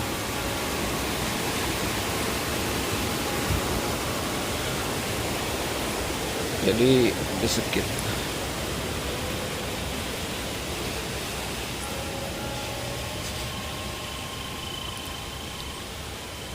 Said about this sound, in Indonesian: soalnya kalau di pinggir sungai berisik